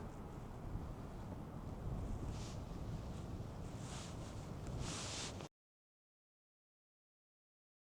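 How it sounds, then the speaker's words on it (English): Steady roar of strong wind buffeting the microphone at Beachy Head on the South Downs Way, Sussex, with broadband rumble and gusty swells, then abrupt silence for the last few seconds. "Unfortunately, it was way too windy"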